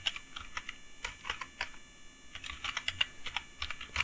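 Quick, light keystrokes on a computer keyboard while setting up an Android development environment, an uneven run of soft clicks heard up close throughout with no talk.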